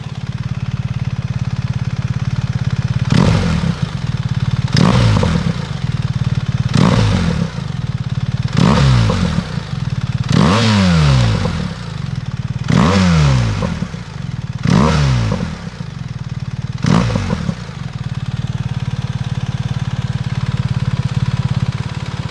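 A BMW R1300 GS idles with a steady exhaust rumble while the throttle is blipped about eight times, each sharp rev rising and falling back to a burbling idle, with extra burble on the down rev.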